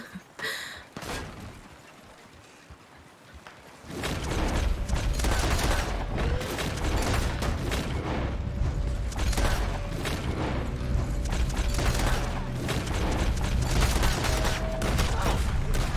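Gunfire in the video game Red Dead Online while shooting enemies, heard as a dense run of loud shots and bursts after a quieter start, with brief voice in the mix.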